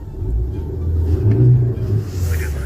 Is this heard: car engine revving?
yes